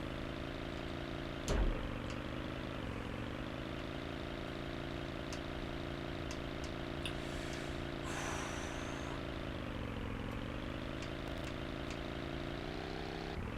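A quad bike engine in the Tomb Raider 3 video game drones steadily at a constant idle-to-mid pitch, rising and dipping gently. A brief knock sounds early on and faint high blips come and go.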